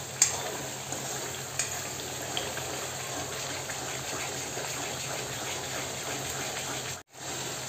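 Fish curry masala for gulwa fish sizzles and fries in oil in a pan, a steady soft crackling hiss with a few small pops, close and uninterrupted until a brief cut near the end.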